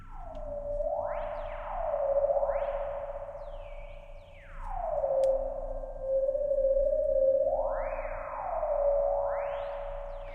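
Repeated swooping electronic tones from an analog circuit's spring reverb, swept by turning a potentiometer, glide down and rise again in slow, warbling sweeps, with no voices.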